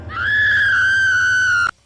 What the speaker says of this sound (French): C'est notre fille qui crie comme ça.